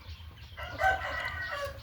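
A breeding rooster, one of three sires kept for a Thai chicken flock, crows once in a rising, drawn-out call that is loud and close over a low hum of background noise.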